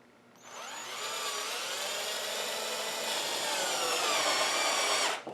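Power driver sinking a fastener through an Onduvilla ridge closure cap into the flat of the corrugated roofing panel; one sustained whining run of about five seconds, close and steady, no talking.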